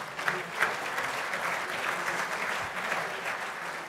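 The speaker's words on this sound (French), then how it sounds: "Je voudrais qu'on l'applaudisse" Audience at a supply chain directors' gala applauds a staff artist, an even, moderate round of clapping from a room of people, continuous throughout with a few sharper claps near the start.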